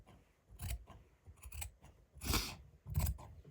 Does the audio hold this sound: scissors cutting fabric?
yes